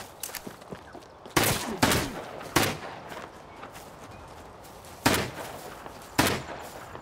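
Gunfire in the survival game Rust: about six loud, sharp shots fired singly at uneven intervals, each with a short echoing tail, over quiet background noise.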